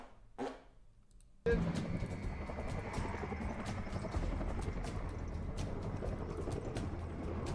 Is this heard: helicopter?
yes